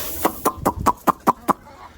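Chickens gathering for feed, with rabbits running alongside, give a string of about eight short, evenly spaced clucks, fairly loud and close, with no talking.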